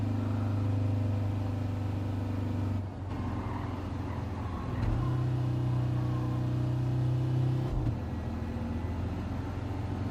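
A VW Beetle engine labours up a hill, a steady low drone that cuts out briefly at gear changes and returns at a higher, strained pitch after the downshift, moderately loud and without speech.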